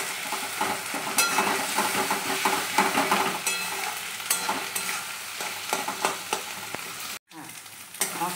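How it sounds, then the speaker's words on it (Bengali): Cumin, garlic, ginger and onion pastes sizzle and sputter in a hot pan, a steady loud frying hiss with the clatter of stirring throughout, then a brief silent gap before the sizzling resumes. "জিরে বাটা, রসুন বাটা, আদা বাটা, পেঁয়াজ বাটা, এগুলো আমি কষিয়ে নেব"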